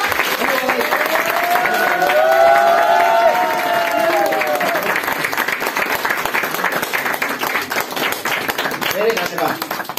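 Steady crowd applause at a wedding ceremony during a ring exchange, sustained for the whole stretch with a voice talking over the clapping.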